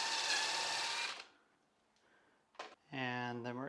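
A power drill whirs loudly in a short burst while boring hinge holes, then stops. A brief knock and a voice follow after a quiet gap.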